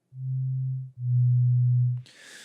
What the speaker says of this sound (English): So this is just a sine wave right now.